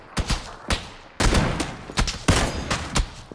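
Gunfire in the battle-royale shooter PUBG (PlayerUnknown's Battlegrounds): several sharp, loud shots in quick irregular bursts, with a dense stretch of rapid firing in the middle and no talk.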